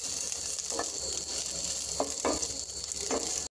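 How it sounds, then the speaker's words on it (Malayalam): Coconut pieces, cashews and raisins roast over a low flame in a pan, giving a steady, close sizzle broken by a few stirring scrapes of a spoon. "അണ്ടിപ്പരിപ്പും കിസ്മിസും ഒന്ന് റോസ്റ്റ് ആവണ വരെ നമ്മൾ ഇളക്കി കൊടുക്കാം ചെറു തീയിലിട്ടിട്ട് ഇളക്കി കൊടുത്താൽ മതി"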